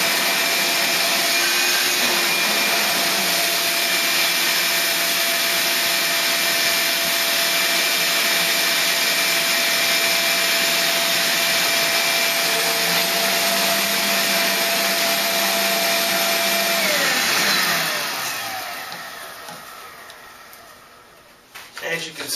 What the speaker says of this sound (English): Now once you turn the shop vac on, the air from the tube is going to go in here.